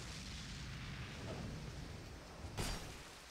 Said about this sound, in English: So I'll throw my own little bit of fire.